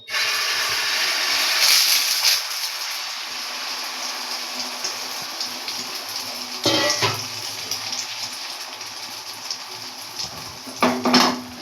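Egg poured over onion and tomato onto a hot oiled griddle (chatu) at low flame gives a steady close sizzle, with brief clinks of utensils partway through and near the end; no talking.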